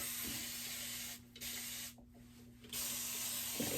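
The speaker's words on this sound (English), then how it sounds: "I'm gonna first spray it all over my locks." A spray bottle of hot water sprays onto hair locs, a steady hiss running almost throughout, broken by a couple of short pauses near the middle, fairly close and moderately loud.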